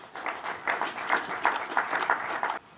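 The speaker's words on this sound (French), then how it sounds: "avec vos acclamations, s'il vous plaît." An audience applauding at a public gathering in the DR Congo, a short burst of moderately distant, dense clapping that stops abruptly after a few seconds.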